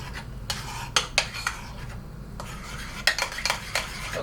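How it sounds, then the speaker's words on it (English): Pancake batter is whisked in a bowl by hand, with steady scraping strokes and repeated light clinks of the whisk against the bowl over a constant background hiss, and no voices. "So I'm just mixing it, as you can see."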